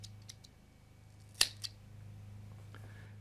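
Scissors snip ringtail hair for fly tying, one sharp close cut followed by a smaller second snip in a quiet room with a low steady hum.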